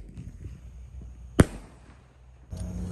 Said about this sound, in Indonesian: Selanjutnya kita nyalakan mercon Gatot Kaca, guys.